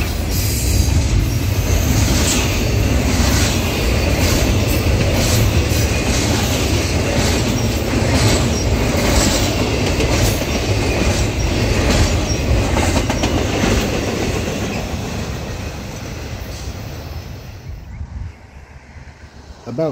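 Long freight train 211 rolls past close by in Norcross, Georgia, wheels clacking and squealing in a loud continuous rumble that fades toward the end.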